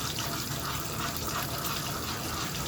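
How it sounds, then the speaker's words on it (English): Grits being stirred in a pot at breakfast, a continuous close wet swishing and bubbling texture over a few seconds, with no voice. "So now I'm just kind of stirring the grits"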